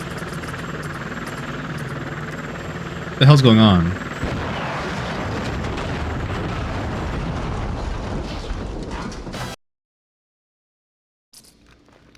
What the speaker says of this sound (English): it spun around in the air for about 30 seconds before suddenly slamming into the building and exploding